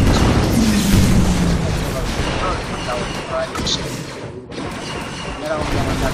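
Shots and blasts go off in the Star Wars Commander video game, busy bursts of weapon fire and booms heard throughout. Someone talks over the game sounds.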